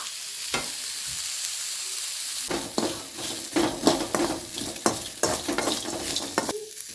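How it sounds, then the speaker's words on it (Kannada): Cloves, black pepper and cardamom fry in hot oil, a steady close sizzle broken by repeated scraping stirs and light clinks of a spoon against the pan, with no voices. "ಲವಂಗ ಕರಿಮೆಣಸು ಏಲಕ್ಕಿ ಇಷ್ಟು ಹುರ್ಕೊಳ್ಳೋಣ ರೀ ಎಣ್ಣೆ ಹಾಕಿಲ್ರಿ"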